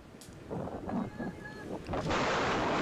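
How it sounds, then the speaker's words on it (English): Strong wind gusts buffet the microphone at an outdoor high school baseball game between Griswold and Woodstock Academy, first as uneven rumbling bursts, then a steady, loud broadband roar. "as strong gusts of wind keep coming through"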